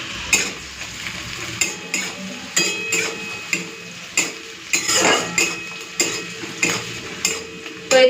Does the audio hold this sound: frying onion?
yes